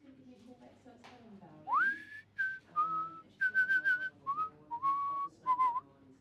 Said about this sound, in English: Chico Ramirez whistled as he waltzed into Dan's office, bringing his boss back to 1950.